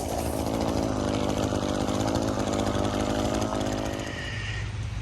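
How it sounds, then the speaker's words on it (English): A lawn mower engine runs loud and close while mowing a neighbor's lawn, a steady buzzing drone with a slight drop in level near the end. "Now I'm gonna go mow the neighbor's lawn on the other side of these trees"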